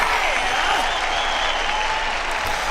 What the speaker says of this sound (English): Let me give a hand clap for that.